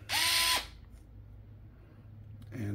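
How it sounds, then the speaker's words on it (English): A Fanttik Nex L1 cordless drill, a heavy-duty L-shaped model, gives a short, loud, high whine that spins up and stops within half a second, followed by quiet and then the start of a second burst. "it's a pretty heavy duty drill"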